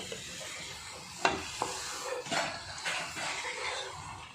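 Chicken varattu being stirred in a frying pan, a steady sizzle with scraping spoon strokes and a couple of sharper clinks against the pan.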